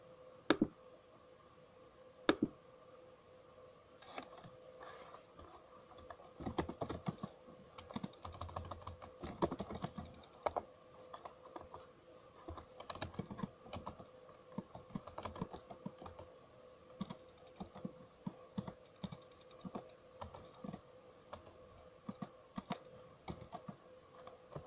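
Irregular clicking of keys typed on a computer keyboard at a programming meetup talk, some keys failing to register; close, moderately quiet taps in uneven bursts throughout, with no voices.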